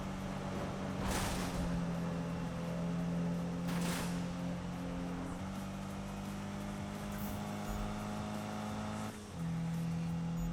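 Upgraded racing car in Need for Speed, a steady loud engine drone holding pitch with brief gear shifts and tyre or wind swooshes, continuous throughout without talk.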